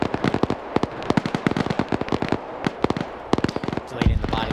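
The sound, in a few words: mortar fire explosions in a military video game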